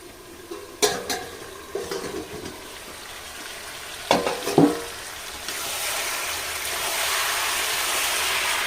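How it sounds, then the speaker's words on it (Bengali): Chicken pieces stirred in a frying pan for a curry, with a few sharp scrapes and clatters of the spoon early on, then a steady, louder sizzle of the meat in oil building toward the end. "এবারে আমি চিকেনটাকেও আরেকবার নেড়ে দেবো"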